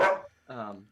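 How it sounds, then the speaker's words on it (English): A dog gives two quick barks a moment apart, close and fairly loud, in an indoor home setting. "sorry about my dogs, guys. They're just happy to be alive today."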